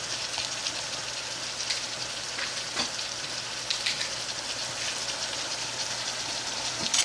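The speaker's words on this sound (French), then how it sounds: "là on va laisser mijoter" Rice with pigeon peas, crab, shrimp and Portuguese sausage simmering in a pot with coconut cream, giving a steady soft bubbling sizzle heard alone and close for the whole stretch.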